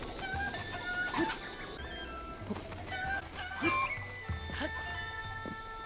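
Chickens cluck and a rooster crows within the Breath of the Wild game world, a busy steady flock chatter over a continuous ambient music bed with no voices.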